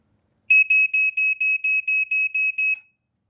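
A Black & Decker SMK30 smoke alarm horn sounds nearby in a slow temporal pattern, about ten sharp piercing high beeps in quick even succession, then silence, with no talking.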